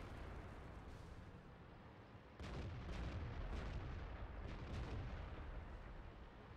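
A tank gun fires in the World of Tanks video game: a steady low rumble of battle noise, then a single heavy boom that leaves a louder, rolling roar behind it.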